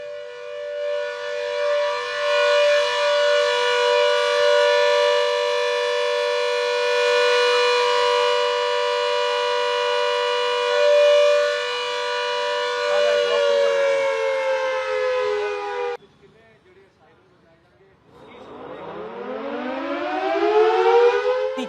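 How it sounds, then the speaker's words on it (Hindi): A civil defense siren from a mock drill in Ferozepur wails loud and steady, holding its pitch for about sixteen seconds before winding down, cutting out, then rising again in a fresh upward sweep. "जिस तरह का सायरन वहां पर बजा था, उसकी आवाज सुनाते हैं।"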